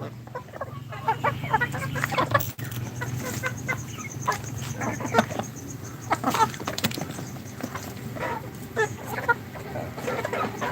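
Chickens on a Pakistani chicken farm, many birds clucking and calling in an overlapping, continuous chorus with sharp individual clucks popping out over a steady barn hum.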